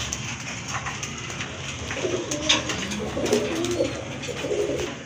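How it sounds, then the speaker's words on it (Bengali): Several Rajgolla pigeons coo in low, throaty, rolling phrases over a steady background hiss, the calls overlapping and continuing throughout. "এখানে কিন্তু আরেক জোড়া রাজগোল্লা কবুতর আছে"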